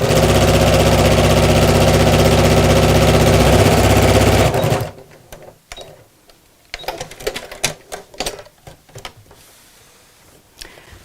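A sewing machine stitches across the top and bottom of a fabric craft bag with pockets, a loud steady motor whir for about four seconds that stops abruptly, followed by quieter clicks and handling sounds.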